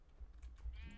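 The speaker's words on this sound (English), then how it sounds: "Oh, sheep! It's mine," A sheep in the Minecraft video game bleats once, faint and brief, over a low hum with light clicking like keyboard typing.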